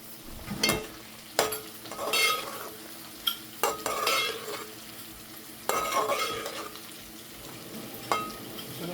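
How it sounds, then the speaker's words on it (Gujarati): Ginger-garlic paste is stirred into frying masala in a pan: a spoon scrapes and knocks against the metal in irregular bursts over a soft, continuous sizzle, close up, with no talk. "આદુ લસણનો પેસ્ટ બધાને મિક્સ કરી નાખવાનું."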